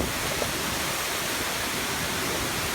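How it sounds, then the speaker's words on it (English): A big waterfall on the Appalachian Trail in Georgia roars as a steady broadband rush of falling water, close and constant with no voices. "there's a big waterfall right here, and it's really beautiful"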